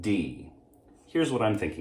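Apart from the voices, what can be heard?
No everyday noises stand out.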